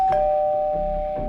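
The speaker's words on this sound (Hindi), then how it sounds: "दरवाजे की घंटी बजी।" A doorbell rings inside a flat with one clear electronic tone that holds and then fades, loud and close, with faint room noise underneath.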